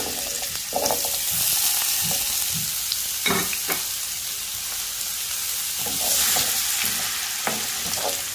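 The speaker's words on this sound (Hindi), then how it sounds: "अब ये जो हमने आलू काटे थे ये डाल देंगे।" Cut potato pieces frying in hot oil for vegetable fried rice, giving a steady, close sizzle with scattered stirring clatters and brief louder bursts of spatter throughout.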